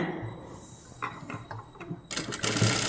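A sewing machine stitching a kids' crop top, starting with a few separate mechanical clicks and then breaking into a loud, fast, continuous whirring run of stitches.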